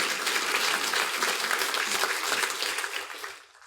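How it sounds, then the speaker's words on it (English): Audience applause during an academic convocation keynote address, a dense burst of many hands clapping that holds strong, then fades out at the end. "go ahead, applaud for me."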